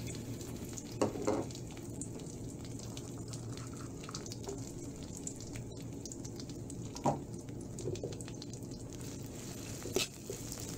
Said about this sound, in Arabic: أضع البصل والثوم في الزيت